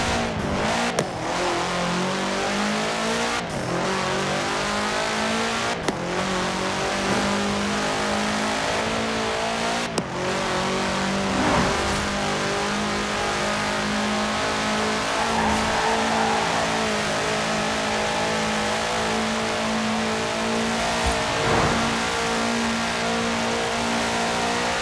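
A Volkswagen Type 2 van in Forza Horizon 4 revs and accelerates hard through repeated gear shifts, its engine tone climbing and dropping in a steady loud rhythm, with no talking.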